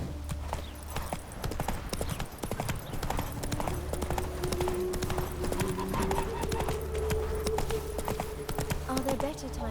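Roach, a horse in The Witcher 3 video game, gallops with steady rapid hoofbeats throughout, a continuous clip-clop carried under game music and a faint tonal drone.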